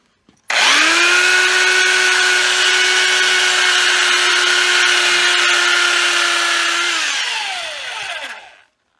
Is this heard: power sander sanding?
yes